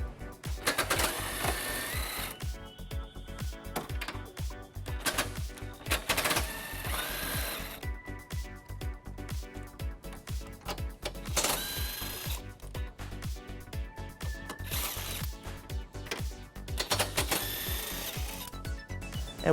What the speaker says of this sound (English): we're going to remove those using an 18mm socket